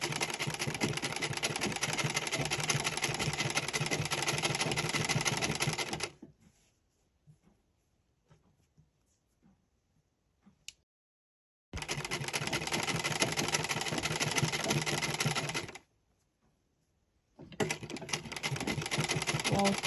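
Sewing machine top stitching a hijab, running in three long steady whirring bursts with quiet pauses between them, close and continuous.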